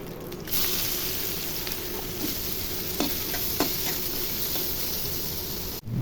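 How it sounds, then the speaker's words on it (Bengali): Onions frying in hot oil left over from frying shrimp, with a steady close sizzle and occasional scraping stir strokes for several seconds, no talking. "চিংড়ি মাছ ভাজা তেলের মধ্যে এখন পেঁয়াজ দিয়ে দিব।"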